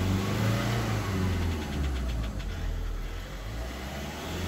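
VW diesel engine in a car going through an injector adaptation routine, a close steady rumble with a slight rise in revs partway through, no talking.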